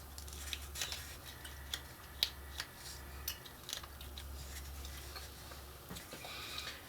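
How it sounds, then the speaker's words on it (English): Scissors making small repeated snips in thin sheet for a model steampunk locomotive steam dome, quiet crisp clicks at irregular intervals over a low background hum. "just going to snip about every 3/16 of an inch or so here."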